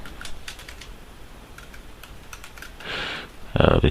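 Someone types ASP.NET code on a computer keyboard in short scattered bursts of close key clicks, ending in a louder clatter, over quiet room tone.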